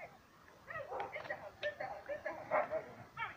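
A neighbour's dogs yip and bark in short, excited bursts at moderate distance, mixed with whimpers, while a person speaks nearby.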